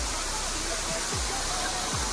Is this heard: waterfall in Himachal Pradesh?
yes